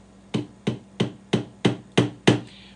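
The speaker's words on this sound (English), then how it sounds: "Recommended tiny little tap hammer like this." A tiny tap hammer strikes seven times in a steady, evenly spaced series, each tap a sharp close metallic knock with a brief ring, loud and alone.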